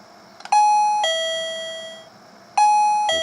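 A koi pond water level alarm sounding on its standard setting, two bright doorbell-like ding-dong chimes, each ringing out and slowly decaying, loud and close in a quiet space.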